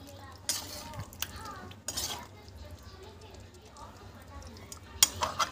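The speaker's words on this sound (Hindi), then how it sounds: "तो देखिए चिकन डाल लिया है और अब इसे मिक्स कर लेंगे हम" Raw chicken is stirred and mixed in a cooking pan, with a few sharp clinks and scrapes spaced out over a quiet kitchen background.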